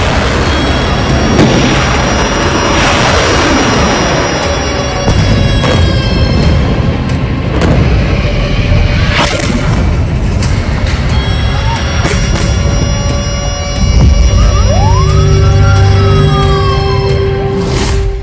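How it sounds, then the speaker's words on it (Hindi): Sirens wail during rocket attacks in Israel, loud and continuous, with rising and falling tones over heavy broadband rumble and dull booms, alongside faint background voices. "इसराइल में हो रहे रॉकेट हमले"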